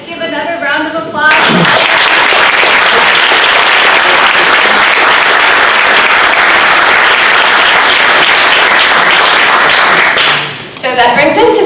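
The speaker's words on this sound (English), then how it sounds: "let's give another round of applause" Sustained loud applause from an audience at a university venture competition finale, steady clapping filling about nine seconds, with a voice speaking briefly before and after.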